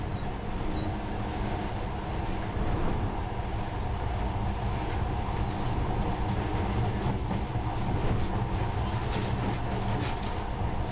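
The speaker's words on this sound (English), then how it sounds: "But now, this monorail seems magic, doesn't it?" A monorail train in the video game Metro Last Light runs with a steady, loud rumble and a rhythmic clatter that lasts throughout, with no talking over it.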